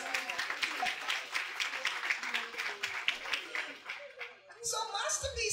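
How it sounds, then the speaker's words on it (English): Scattered clapping from a crowd at a rally, uneven bursts of hands of moderate loudness that thin out toward the end, giving way to brighter chatter and a laugh. "Give yourself a round of applause."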